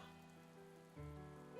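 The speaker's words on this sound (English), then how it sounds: "it's constantly raining" Steady rain falls across the world of Breath of the Wild, a continuous hiss and patter on surfaces with a low tonal music bed running underneath and no talking.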